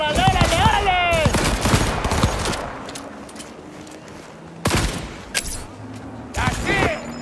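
Gunfire in the video game Cyberpunk 2077: loud bursts of automatic fire open and close the stretch, with shouted voices over the early shots and a quieter lull of room tone between volleys.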